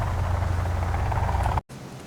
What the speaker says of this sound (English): these helicopters